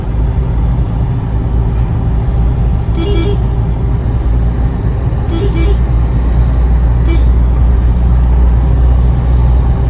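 Mahindra Bolero BS4 cruising in fifth gear: a loud, steady engine and road drone inside the cabin that holds level for the whole stretch, with faint brief ticks and beeps now and then.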